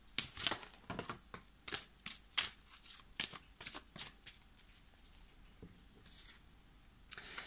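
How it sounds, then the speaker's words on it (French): Tarot cards are shuffled and drawn in a run of crisp riffling flutters and soft slaps, close and clear with short pauses between bursts, no speech. "Donc je vais tirer les cartes et ensuite je reviendrai, je mettrai sur pause."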